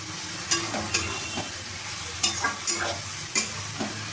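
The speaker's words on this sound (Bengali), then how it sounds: "আমি সর্ষে আর পোস্তটা দিয়ে আমি ভালো করে একটু নেড়ে নেব।" Spoon stirring mustard seeds and poppy seeds in a pan while they cook for a kudri curry, a series of distinct scraping strokes at an uneven rhythm over a low steady sizzle, close and fairly quiet.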